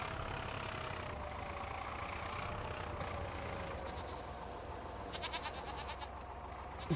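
Goats bleat in Farming Simulator, a few faint calls sitting over a steady low engine idle and background farm ambience.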